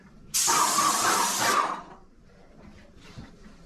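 A sharp hiss from a Graco X5 paint sprayer bursts out close by for about a second, then cuts off, leaving faint quiet sounds.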